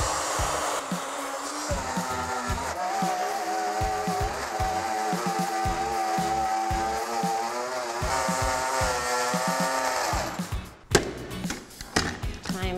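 A plunge router cuts shallow passes in wood for a round coffee table, a loud steady high-pitched motor whine with tonal harmonics that rises and shifts as the bit bites, then breaks off into rougher bursts.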